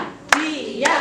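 A group clapping in unison for the tepuk diam clapping game, heard as two sharp, close claps about half a second apart over a faint room murmur.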